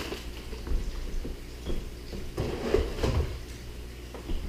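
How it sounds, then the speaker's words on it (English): Plastic top drawer of a freezer being lifted up and pulled out of its tracks, a series of soft clunks, scrapes and rattles at close range. "I'm going to remove the top drawer from the freezer by lifting up on the front, pull it all the way out, lift up on the front, and it disengages from the tracks"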